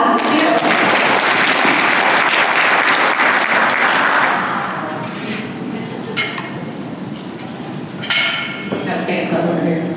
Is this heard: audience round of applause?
yes